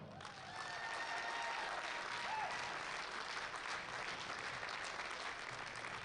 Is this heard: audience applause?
yes